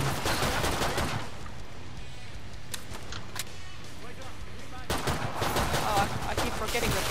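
Burst-fire gunshots in the Killing Floor 2 co-op shooter, rapid clusters of shots with game effects in a subway-like level, heard in bursts around a quieter middle stretch, with a player's voice talking over the action.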